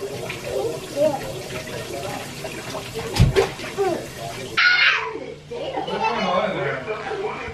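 Shower water runs in a home bathroom during a children's evening routine: a steady hiss of spray that swells in the second half, with children and adults talking over it.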